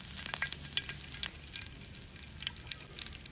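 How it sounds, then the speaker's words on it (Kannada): Curry leaves crackle and sizzle in hot coconut oil for a Mangalore-style fish fry masala, a steady close frying hiss with sharp spitting pops throughout and no voices. "ಸ್ವಲ್ಪ ಕರಿಬೇವಿನ ಸೊಪ್ಪು ಹಾಕ್ತಾ ಇದ್ದೀನಿ"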